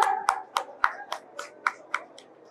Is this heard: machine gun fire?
no